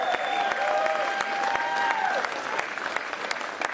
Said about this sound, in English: Give a round of applause for Jared.